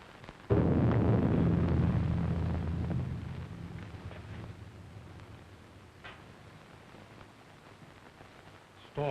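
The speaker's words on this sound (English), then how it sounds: "Storm is increasing." A storm with thunder in a 1932 film: a sudden heavy rumbling crash that rolls and slowly fades over several seconds into windy background noise, with a second burst starting right at the end.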